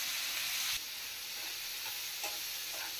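Eggplant pieces drop into a pan of frying onions, setting off a loud, steady sizzle with a burst of hissing at the start and soft stirring scrapes afterward, close up and without talk.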